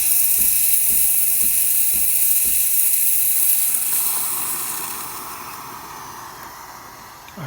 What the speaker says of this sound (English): Steam's looking good.